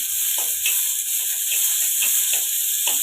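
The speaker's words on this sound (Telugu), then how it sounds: "రెడ్ కలర్లో వచ్చిందాక కొంచెం ఇలా ఫ్రై చేసుకోవాలి" Small chopped onion frying in a pan for pudina tomato chutney, a steady close sizzle with soft stirring clicks running throughout.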